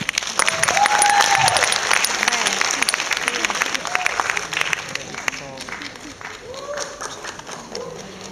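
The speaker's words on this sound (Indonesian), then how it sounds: "Tepuk tangan sekali lagi." Concert audience at the closing of the Cikini Klasika 2016 classical music event claps after a solo guitar performance, dense applause that swells early and gradually tapers, with voices and cheers mixed in.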